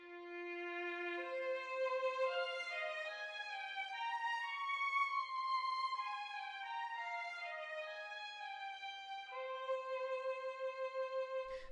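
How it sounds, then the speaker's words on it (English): A sampled first chair solo violin plays a slow legato line from the Strezov Afflatus strings library, notes gliding smoothly into one another with a warm sustained tone, soft and unaccompanied. "Violin 1 Legato, which was also in the update, and it sounds like this."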